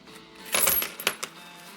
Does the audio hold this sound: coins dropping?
yes